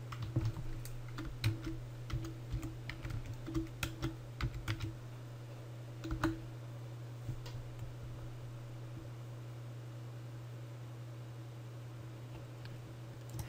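Someone types on a computer keyboard while logging in to Windows. The quiet, quick key clicks last about six seconds over a steady computer fan hum, then only the fan remains.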